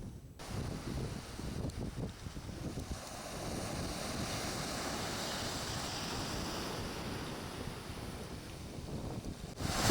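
Ocean surf rolling onto Robert Moses beach on Fire Island during surf fishing, a continuous broad roar of breaking waves with heavy wind buffeting the microphone, no voices.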